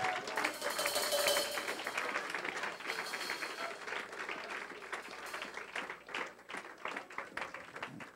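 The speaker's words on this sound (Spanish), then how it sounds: "Denle un aplauso al Señor en esta hora." A church congregation applauds together, a dense, fairly loud wash of clapping over roomy ambience that stays steady for most of the span, thinning into scattered claps near the end.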